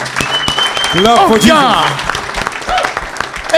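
A church congregation claps and cheers together, loud and close, while a voice speaks and calls out over the applause through most of the moment.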